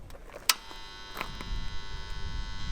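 A cheap eBay kiln just plugged into mains power gives off a steady electrical buzz with a constant hum, after a sharp click near the start, recorded close in a quiet room with no talk.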